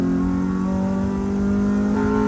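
A stock car being converted toward an FD2 Type R pulls hard in third gear, its engine droning loudly and steadily with a rising tone near the end, close up and without talk.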